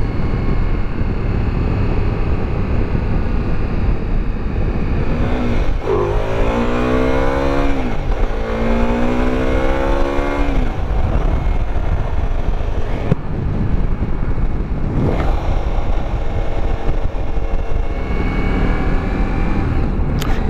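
A 2024 Ducati Multistrada V4S motorcycle cruises at speed on a highway, its engine droning steadily under heavy, constant wind rush. Clear rising and falling engine tones sweep through the middle as the rider shifts and accelerates, with no talking.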